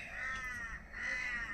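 Crows cawing at Chopta, a hill station in Uttarakhand, in repeated harsh calls that carry steadily across the clip over low background rumble, with no talk.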